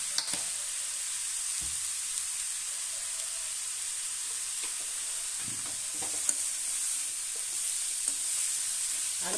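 Radish sautéed in a little oil in a pan gives a steady, bright sizzle throughout. Occasional soft scrapes and taps of stirring sit close under it.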